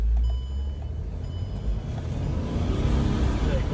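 Mercedes car engine after a DPF and EGR delete with a Stage 1 software tune: a steady, moderately loud engine drone with broad road-like noise that swells slightly toward the end, plus thin tonal beeps early on.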